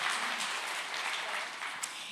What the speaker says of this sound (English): give them another big round of applause and lots of prayers for our new team